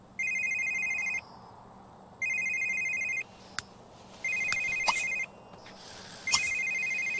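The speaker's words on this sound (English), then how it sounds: "Dante, why's your phone ringing?" A phone ringtone in The Sims 3 plays in repeated bursts of about a second, separated by short pauses, loud and clear over a quiet game background with occasional clicks.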